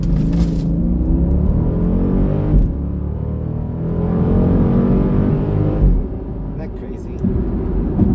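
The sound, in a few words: car accelerating hard onto a highway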